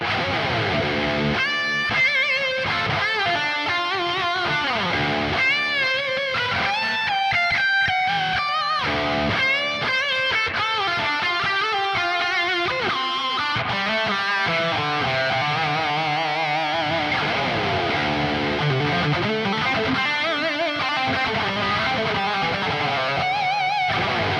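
A distorted electric guitar on the bridge humbucker of a Gibson Les Paul Standard 60s plays a continuous lead line with sustained, singing notes and bends, loud and steady throughout.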